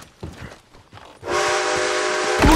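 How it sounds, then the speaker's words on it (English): A train in Red Dead Redemption 2 coming to a stop: quiet clatter gives way to a loud, steady mechanical roar with sustained whistle-like screeching tones, ending in a sharper high squeal. "Oh no, the train stopped! Who stopped this train?"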